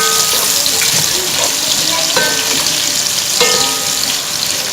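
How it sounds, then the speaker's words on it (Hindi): Chopped onions go into hot oil in a pan with cinnamon sticks for a chicken and potato shorba, giving a steady, close, broadband frying hiss that carries on without pause and with no talking. "इसी के साथ हम अपनी ये ऑनियन भी ऐड कर देंगे।"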